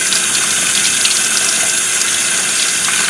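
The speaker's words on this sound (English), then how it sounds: "And we got hot water, y'all." Hot water gushes steadily from a tap fed by an Eccotemp L7 on-demand gas water heater in a pole barn, a loud, even hissing spray with no speech.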